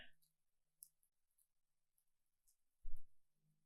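Scissors snip paper for a small silhouette collage: a few quiet, sparse clicks spaced apart, then a soft thump near the end, with no talking.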